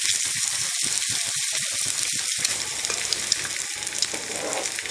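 Vanjaram fish shallow frying in a pan, an oil-free dry fry coated in masala batter, gives a steady, close sizzle throughout with occasional faint crackles and no talk.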